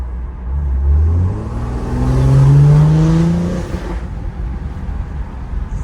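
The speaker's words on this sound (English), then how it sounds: "I'll give it a little juice and get it to upshift for us real quick." BMW M340i Stage 2 with a Dinan valved exhaust, valves closed in comfort mode, accelerating with a rising engine note through two quick upshifts, loud and close, then settling to a low idle rumble.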